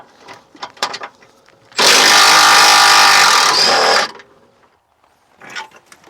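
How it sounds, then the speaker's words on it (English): An impact wrench with a 13mm socket on an extension and universal adapter spins out transmission mount bolts on a 2007 Ford Edge 3.5L, one loud steady burst of about two seconds between quieter clinks and handling noises. "I'm going to use my impact on them."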